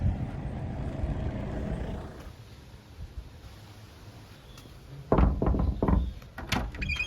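A vehicle door on a surf tour trip in Nicaragua opening and closing, with a low rumble fading, then a few sharp clunks and thuds close by.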